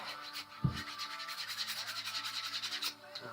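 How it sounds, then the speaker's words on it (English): An electric foam cutter slices through upholstery foam for a retro office chair, a close, rhythmic rasping buzz that runs for a few seconds after a single soft knock, with no speech. "Foam cutter."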